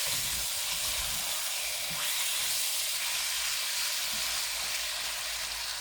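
Chicken drumsticks with lemon frying in a pan give a loud, steady, close sizzle and hiss that carries on unbroken with no talking over it.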